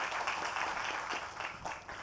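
Faint, steady audience applause at the opening of a medical centre in Fiji, a dense patter of many hands clapping throughout.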